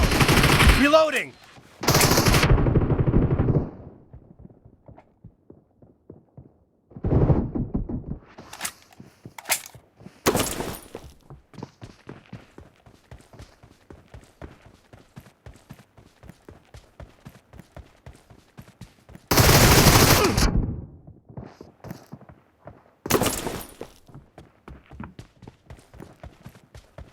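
Gunfire in a team deathmatch shooter game: several loud, sharp bursts of rapid automatic fire spaced across the stretch, with quieter pattering shots and footstep-like ticks in between.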